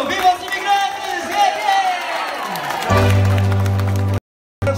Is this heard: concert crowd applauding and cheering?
yes